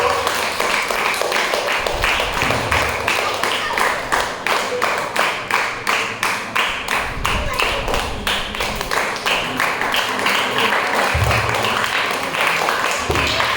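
A crowd of children and teachers claps steadily and rhythmically in unison, loud and sustained throughout, with a few voices underneath, at a church puppet show.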